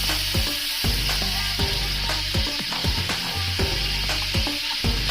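Duck breast sizzles and fries steadily in a hot pan as it cooks down, a dense continuous crackle with scattered louder pops throughout, close and fairly loud with no talking.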